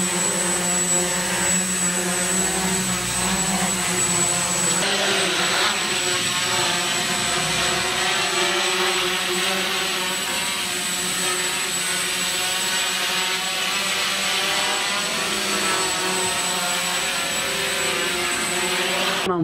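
A homemade drone flies with a continuous loud, high-pitched whine of its motors and rotors. The steady hum holds for the whole stretch and no one speaks over it.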